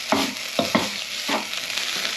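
Bolognese sauce sizzles steadily in a pan, with several distinct scraping stirs of a spoon against the pan over the continuous frying hiss.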